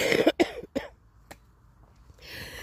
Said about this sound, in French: Alors oui, je tousse toujours.